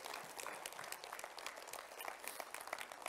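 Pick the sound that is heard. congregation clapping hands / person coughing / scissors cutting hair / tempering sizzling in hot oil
congregation clapping hands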